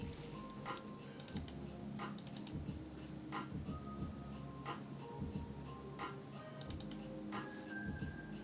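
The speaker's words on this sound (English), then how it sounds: "I'm typing a password" A password is typed on a computer keyboard, with soft, quiet key clicks coming in short irregular bursts over a faint background hum.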